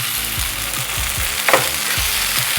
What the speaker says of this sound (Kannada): ಎರಡೂ ಸೈಡು ಕೂಡ ಫ್ರೈ ಮಾಡ್ಕೊಳ್ಬೇಕು